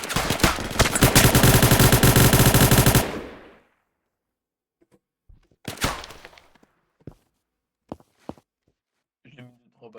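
Rapid automatic gunfire in a roleplay video game rattles in a sustained loud burst for about three seconds and then stops abruptly. Scattered thuds and short bursts of speech follow.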